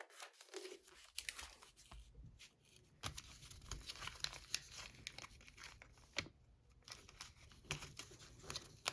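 Origami paper being folded and a trap sheet pulled out from underneath while a paper fighter jet is made: close, dry crinkling and crackling rustles with sharp tearing-like scrapes, continuous and uneven throughout.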